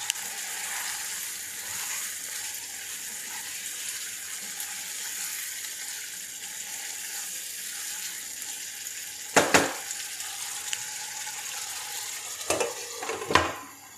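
Steady sizzling of mutton frying in a pan over medium heat, with a few sharp clinks of a utensil scraping and stirring near the end.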